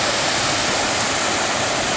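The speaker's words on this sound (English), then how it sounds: "Beautiful natural pool below about an 8-foot cascade." A small cascade of about eight feet tumbles into a natural pool, making a loud, steady, close rushing roar without break.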